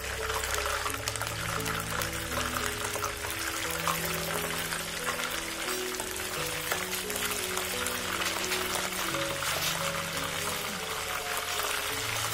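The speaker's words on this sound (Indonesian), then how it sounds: "Setelah minyak panas, masukkan ikan dan goreng ikan hingga matang." Fish sizzles steadily in hot oil, a dense, continuous crackling hiss that stays loud and close throughout with no talking, with a low hum underneath.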